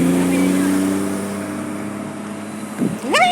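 A car passes on a street, its engine hum sustained close by and then fading, followed by a brief rising voice-like squeal at the end.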